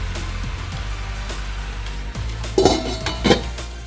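A lid goes onto a pot of pork hamonado, clanking twice in quick metallic knocks over a steady background hiss of cooking.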